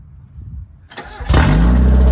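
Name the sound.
Mazda Miata engine starting with new MagnaFlow exhaust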